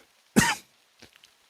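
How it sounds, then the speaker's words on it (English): A single sharp, loud cough bursts out close to the microphone, followed by a couple of faint throat noises trailing off into near silence. "Why do I always get these coughing jags when I want to talk to you?"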